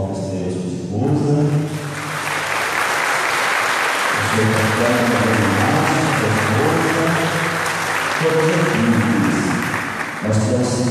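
A congregation at the Festa de Nossa Senhora do Socorro church festival applauds to welcome guests, steady clapping that runs under sustained amplified music or singing for the whole span.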